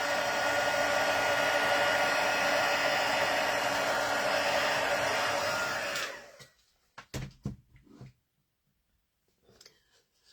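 A heat tool blows with a steady loud whoosh while melting embossing powder on a handmade star burst card, then switches off abruptly partway through, leaving a few soft clicks and handling sounds.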